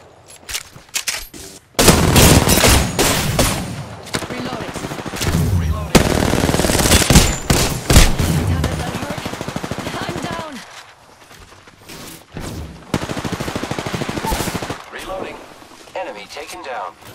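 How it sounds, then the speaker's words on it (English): Bursts of automatic gunfire from enemies in the battle-royale game Apex Legends, loud and dense rattling volleys that stop and start over several seconds, with a voice speaking intermittently beneath. "The enemies are shooting at me."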